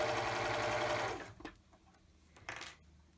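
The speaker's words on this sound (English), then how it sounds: "I just sew right through instead of starting and stopping and messing with all that." A sewing machine stitches straight across a dress strap in a fast, steady whir for about a second, then stops, followed by a few faint clicks and a short burst of handling noise.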